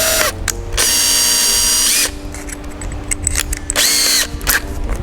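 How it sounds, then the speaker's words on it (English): A power drill with a small bit bores a hole in a plastic chin spoiler for a Mazda Protege, sounding as two loud, close whirring bursts with a quieter stretch of motor noise between them. "you just take the drill bit. Put a small hole."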